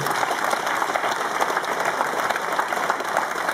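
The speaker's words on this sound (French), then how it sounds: "vous pouvez les applaudir aussi" An outdoor political rally crowd applauds steadily, with dense clapping holding at an even level from start to finish and no voice over it.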